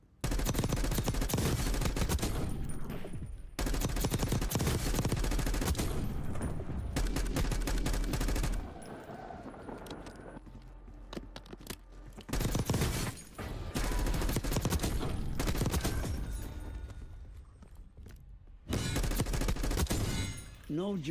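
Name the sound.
assault rifle gunfire in video game Call of Duty Black Ops 6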